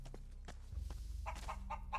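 A chicken in the video game Risen clucks in a few short, fairly loud bursts over a steady low game ambience, with no talking.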